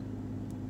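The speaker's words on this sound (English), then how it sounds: "sorry about the noise in the background, it is my car" A low, steady engine hum drones close by, with a brief faint hiss midway.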